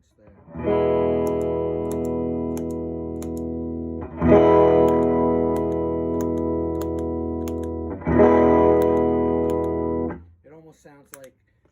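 An electric guitar played through distortion and effects pedals rings out in three long sustained chords, each struck hard and left to decay, followed by a few brief picked notes at the end.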